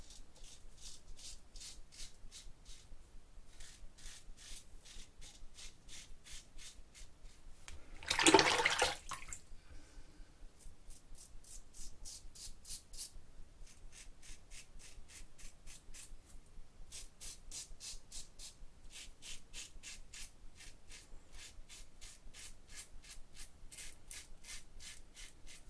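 A RazoRock Game Changer 84 safety razor shaves against the grain with a close, dry rhythmic scraping in quick repeated bursts of short strokes, broken by a brief rush of running water from a rinse before the scraping resumes.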